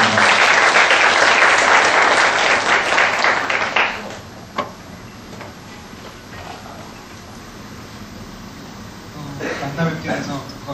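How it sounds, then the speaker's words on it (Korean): Loud crowd applause welcoming a professor to a lecture on architecture and philosophy fills the first four seconds, then stops abruptly into quiet room tone, with a brief burst of shuffling and scattered sound near the end. "큰 박수로 장영순 교수님 모셔주십니다"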